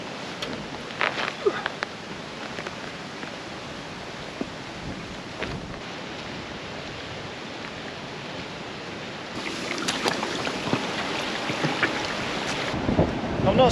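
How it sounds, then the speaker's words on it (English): Strong storm wind on Dove Crag in the Lake District: steady blustery roar buffeting the microphone, with brief gust thumps and a louder surge near the end. "It is gusting quite strong."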